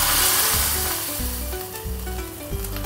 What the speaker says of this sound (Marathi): हा तडका मी गॅस बंद केल्यावर घातलेला आहे